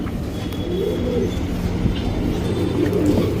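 Male HMT Regdar pigeons at a Bangalore pigeon seller's loft coo steadily in low, throaty rolling calls, close and continuous over a faint background hum.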